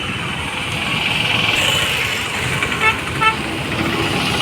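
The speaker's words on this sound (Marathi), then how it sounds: "याच्यावरून वाहतूक चालू आहे" Road traffic crossing a newly built bridge over a river swollen by heavy rain: a continuous roar of trucks and cars passing close by, with two short horn toots near the end and no talk.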